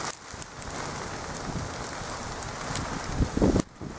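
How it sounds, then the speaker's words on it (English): Icy pellets of winter precipitation falling outdoors on Shooters Hill, a steady granular patter with wind buffeting the microphone and a louder rustling burst near the end. "We're getting icy pellets. I don't think there's any sleet in it, although it could be damn close."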